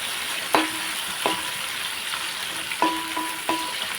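Coriander leaves sizzle in a hot oil pan during home cooking, a steady crackling fry broken by several sharp clinks of a spoon stirring against the pan, with no talk.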